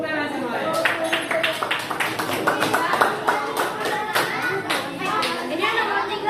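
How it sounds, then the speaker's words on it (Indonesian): Students in an Indonesian classroom clap together, quick uneven bursts of hand claps close by, with children's voices and chatter mixed in. "Tepuk tangan semuanya."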